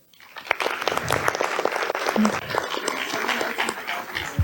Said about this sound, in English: I would like to give a huge round of applause also for Indriyu, the violin guy.